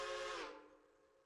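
A steam locomotive whistle in the Railroader video game gives one short, bright, multi-toned blast that cuts off quickly and fades out, faint and alone.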